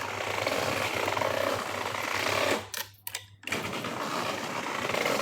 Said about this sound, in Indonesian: Aku lagi tutup hordeng.